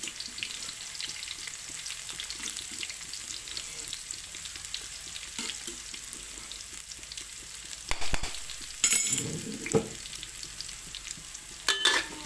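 Pounded chili and garlic crackle and sizzle in hot oil, a steady close frying hiss with occasional utensil clatters and louder scraping stirs near the end, and no talking.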